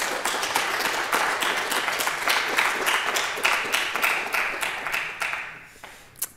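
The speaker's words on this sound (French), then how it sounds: "Je vous invite à applaudir de nouveau" Audience applauding after a talk at an astronomy conference about the Pic du Midi observatory, a sustained round of many hands clapping that gradually thins out and fades, ending with one last isolated clap.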